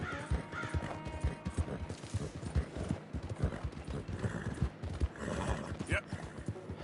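A horse in Red Dead Redemption 2 clops along with rhythmic hoofbeats and lets out a whinny partway through. Crows caw in the background, and a voice talks over the steady, moderately close gallop.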